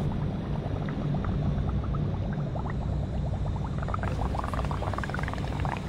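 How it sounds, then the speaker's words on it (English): Gas from a balloon bubbles into a soap solution, a faint continuous burbling and popping fizz over a low steady background, with no one speaking. "what I'd like you to do is bubble it into the soap solution so we can make some rocket fuel bubbles"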